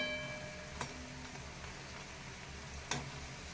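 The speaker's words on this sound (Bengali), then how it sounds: "এইভাবে বড়াগুলো আমি সমস্ত বড়াগুলোকে ভেজে নেব" Pumpkin leaf fritters fry in hot oil with a soft, continuous bubbling sizzle, faint and close, marked by two brief clicks of a utensil and no voices.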